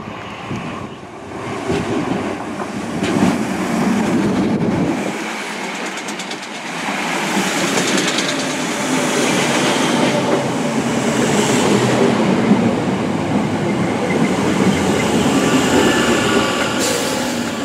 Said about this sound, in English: film some more trains